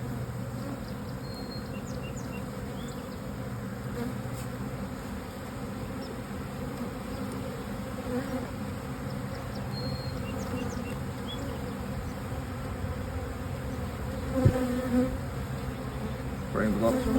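Honeybees drone around open hive frames of pollen, honey and brood during a hive split, a long, steady, close buzz with occasional louder passes and a brief knock near the end.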